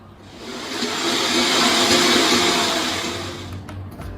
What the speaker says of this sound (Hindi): अब हम एक ब्लेंडिंग जार में सभी चीज़ों को डाल देंगे, टमाटर और खड़े मसाले एक साथ, और इनका स्मूथ सा पेस्ट या प्यूरी बना लेंगे हम